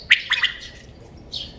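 Birds call at dawn in a short, bright burst of two or three sharp squawking chirps close by, then a last faint call after a brief pause.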